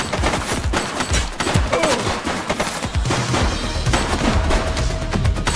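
Dense, continuous gunfire in a police shootout in the video game The Precinct, with rapid overlapping shots and bursts sounding loud and close throughout, without pause.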